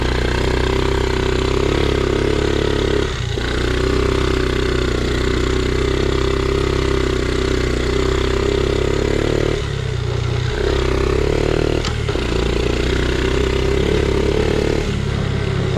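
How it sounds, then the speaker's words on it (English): A Honda Z50R dirt bike engine idles steadily while cold and on choke, a continuous close mid-pitched drone with a few brief dips and clattery knocks, and no one speaks over it. "it's definitely running better. But we're still running on a cold engine, and it's still running on choke."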